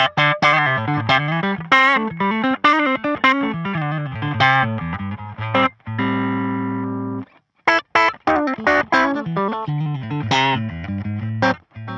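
An electric guitar plays through Tube Screamer overdrive on a Line6 Firehawk FX, with crunchy, punchy riffs broken by one long sustained chord, loud and upfront.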